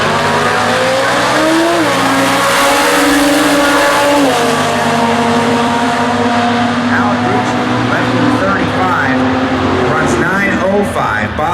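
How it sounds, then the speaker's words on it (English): A 2011 Dodge Challenger fitted with a Viper engine and two extra cylinders runs down a drag strip in a Factory Stock race, its engine droning loud and steady throughout, with announcer commentary laid over it. "Jonathan Allegrucci, 2 extra cylinders motivating that 2011 Challenger."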